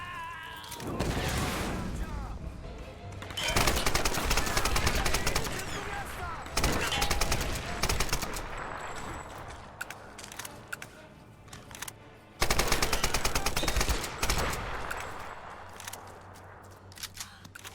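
Tomb Raider gunfire crackles in rapid bursts and single sharp shots, loud and close, separated by short pauses, with a voice talking in between.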